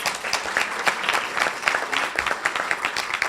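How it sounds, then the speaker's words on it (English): A round of applause for a First Sergeant at a civic club luncheon, following the pledge of allegiance with cadets present, a steady wash of clapping from the room with no one speaking over it. "Please give First Sergeant Ryan a round of applause."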